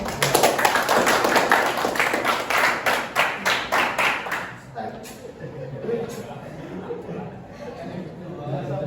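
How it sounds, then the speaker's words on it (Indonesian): Classroom applause for a student group, rapid rhythmic clapping from many students for several seconds that then fades into murmuring chatter and light laughter. "tepuk tangan buat kelompok"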